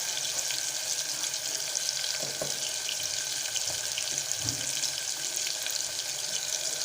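Onions and tomatoes sautéing in a pan, a steady, even hiss of frying that holds close and constant throughout, with a few faint stirs and knocks beneath and no one speaking.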